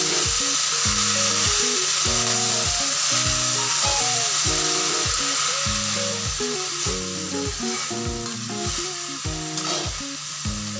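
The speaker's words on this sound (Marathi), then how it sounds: "परतवून घेऊयात तेलात" Sprouted moth beans sautéing in hot oil for matki usal, with a steady loud sizzle and frying crackle throughout, broken by repeated rhythmic scraping and clanking of a spoon stirring against the pan, no voices.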